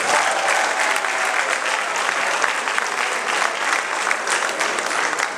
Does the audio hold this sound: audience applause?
yes